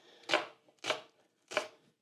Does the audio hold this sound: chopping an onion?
yes